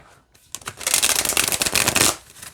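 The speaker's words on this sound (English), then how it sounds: "let's see how it shuffles" A deck of tarot cards on stiff cardstock being riffle-shuffled: one quick, loud, dense burst of flapping card edges lasting about two seconds.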